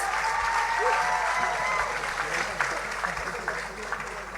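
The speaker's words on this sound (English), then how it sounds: "please join me in giving these 6 talented youth ambassadors another round of applause" Audience at a Taiwanese and Saint Lucian cultural evening applauding six youth ambassadors, a steady wash of many hands clapping that holds throughout, with a faint murmur of voices underneath.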